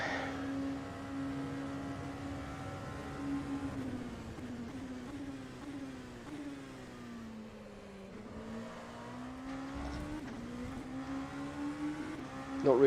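A race car engine in rFactor 2 at a 24h of Le Mans practice session revs loudly and alone, steps down through gears under braking, then climbs back up in pitch as it accelerates.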